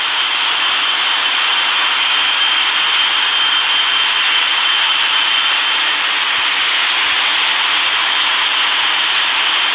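Boeing 777-300ER jet engines spooling up for a rainy takeoff in the RFS flight simulator game, a loud, steady broadband roar that holds level throughout with no voices.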